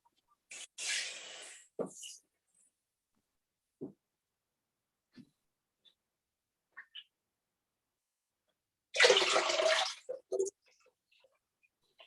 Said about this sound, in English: I'm going to put just water up to between the two marks